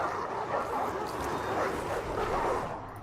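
War dogs in the video game Total War Arena charge Roman Principes infantry in battle. Excited barking and yipping rise through a dense, noisy battle din.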